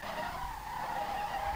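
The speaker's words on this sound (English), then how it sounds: "fourth gear, spinning wheels, nice." The rear tires of a Lexus SC300 with a tuned 1JZ engine of more than 700 hp spin in fourth gear in a racing game, giving a steady, sustained tire squeal over the engine drone.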